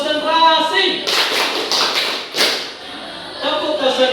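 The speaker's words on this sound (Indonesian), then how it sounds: "Nah, tepuk konsentrasi ya" Students in a classroom do a rhythmic concentration clap: bursts of claps and taps in patterned groups, interleaved with chanted voices, fairly close and moderately loud.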